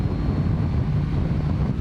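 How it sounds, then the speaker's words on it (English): BMW K1300R big-bore motorcycle engine revving from low RPM with a deep, steady grumble, continuous and close, with wind rushing across the microphone. "There's just something about a big bore engine when you're revving it from a low RPM."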